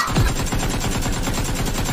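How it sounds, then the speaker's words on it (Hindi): Rapid bursts of gunfire, loud and continuous like automatic fire, heard as a harsh compressed recording with no voices. "अगला बंदा उसको फायरिंग कर रहा है"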